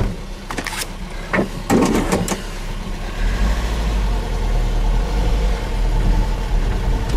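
A Mazda B2200 pickup engine idles high and rich, a steady low rumble that holds without dropping, with a few knocks and rattles early on over the constant drone.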